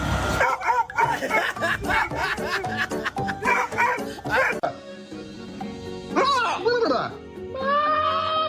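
A young Belgian Malinois, a teething puppy, barks and yips in quick bursts close by, mixed with people talking and background music.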